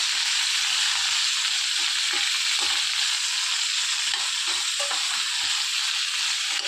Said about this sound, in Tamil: நம்ம நல்லெண்ணெயில் போட்டு நல்லா வதக்கிக்கணும்.